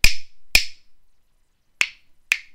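Hyoshigi wooden clappers struck together four times, two sharp loud cracks in quick succession, a pause, then two more, each a crisp dry clack with brief ring-off and near silence between.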